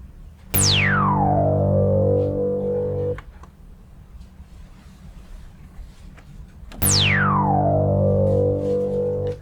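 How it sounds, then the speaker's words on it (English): Two sustained synth notes sampled into an ASR-10 sampler, each opening with a bright high-resonance filter sweep that falls quickly and then settles into a steady buzzing tone, separated by a pause. "the filter set up with high resonance and kind of sweeping automatically with an envelope as you press the key"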